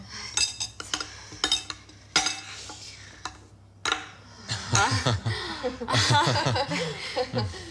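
Cutlery clinks and scrapes against plates in short bursts while desserts are cut, followed by several people chatting and chuckling nearby.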